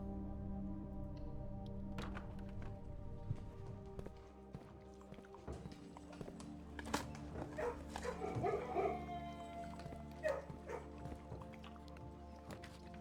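A dog barks in a kennel room in the video game Blue Prince. Yips and barks come in a few short bursts over a soft, steady musical background.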